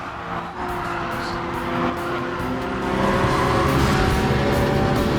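A race car roars through an overtaking move, its engine note climbing steadily alongside a brief tire squeal, loud and close with no talking.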